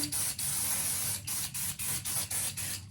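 Short bursts of dry shampoo aerosol hiss out one after another, about eight quick sprays in a close, steady rhythm with brief gaps between them.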